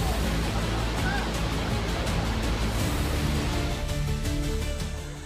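The Kandla stream on the Tissa–Chamba road in Chamba is swollen with floodwater, sending out a loud, continuous rushing roar. The torrent is close and steady, and a few faint honks show through it.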